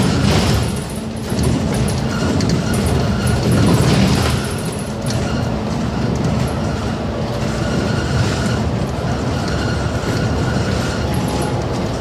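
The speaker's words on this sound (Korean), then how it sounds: "기차입니다." A train rumbles past close by with a loud, steady roar of wheels on rails and faint metallic clatter, heard from aboard a bus running through Seoul, with no talking.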